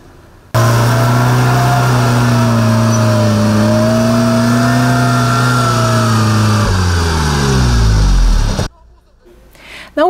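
A car stuck in deep snow in Syktyvkar revs hard: a loud, sustained engine drone wavers in pitch, then climbs sharply before cutting off abruptly, with other noise outside briefly afterward.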